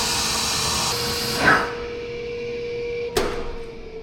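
A ShopFox dust collector installed outside runs with a steady whooshing hum and faint tonal whine, broken by two sharp knocks or clunks midway and near the end.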